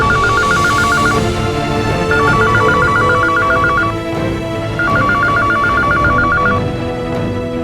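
A telephone rings in three repeated trilling electronic bursts, loud and steady over a busy domestic background hum, no voices.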